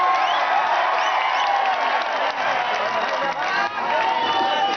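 A crowd applauds and cheers to welcome poet Imran Pratapgarhi at a live event. Loud, continuous clapping mixes with whoops and crowd voices and barely dips over nearly five seconds.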